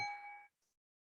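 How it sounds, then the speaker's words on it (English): A metal gong resting on a table is struck once, giving a bright ringing tone that fades within half a second, followed by a faint short shimmer; no voices. "I have a gong on my table, always next to me, right? Look at this. What happens? You hear a vibration"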